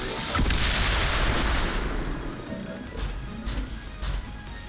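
Heavy booming gunfire in a video game, loud and dense at first and then continuing as rougher, slightly quieter shots and rumble with no talking.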